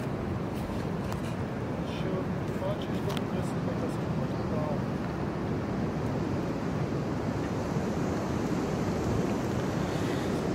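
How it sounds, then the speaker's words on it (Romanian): Strong wind roars by the sea, buffeting the microphone with constant broadband rushing and surf-like noise, loud and unbroken, while voices are faintly present beneath it. "Vai, dar ce vânt e!"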